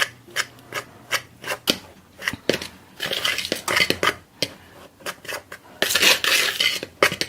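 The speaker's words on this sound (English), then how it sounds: "I'm just going to kind of mix this around with a fork so everything gets incorporated into the flour" A fork scrapes and clinks around a bowl as it works dry biscuit ingredients into flour for cheddar bay biscuits. The strokes are rhythmic and close, the bursts sometimes rapid, some crunchy, others gritty, with no talking.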